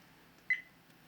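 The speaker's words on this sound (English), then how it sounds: "when I hear the beep, I see that something's going on with the camera" VIOFO A119 Mini 2 dashcam giving a single short electronic beep, faint and brief against a quiet background hiss.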